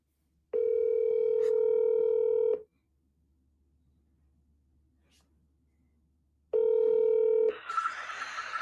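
An unanswered telephone call rings out: two long, steady electronic ring tones separated by a silent gap, the second cut off by a burst of noise.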